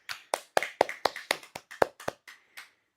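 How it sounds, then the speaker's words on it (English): About a dozen crisp hand claps from a single person, spaced fairly evenly and fading slightly toward the end, close and clear with no talking. "give yourself a small round of applause"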